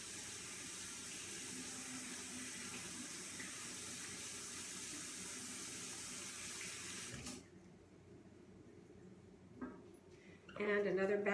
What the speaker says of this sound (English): Okay, rinsing hands again.